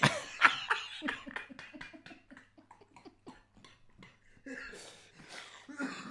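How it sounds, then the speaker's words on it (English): Quick bursts of coughing in a rapid series, close and fairly loud, followed by rougher breathy sounds. "You're coughing differently today."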